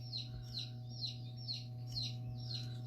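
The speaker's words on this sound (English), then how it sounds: "Y'all chickens are getting noisy over there." Chickens cluck and chatter at a distance in a clay workshop, bursts recurring roughly every half second over a steady low electrical hum.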